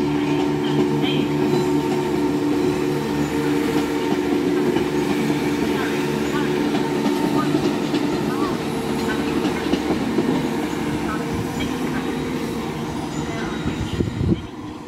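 A train rolls past on the rails at Ashford International station with a loud, steady rumble and low mechanical drone that holds throughout before easing slightly at the end.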